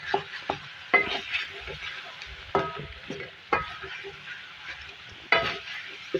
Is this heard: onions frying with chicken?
yes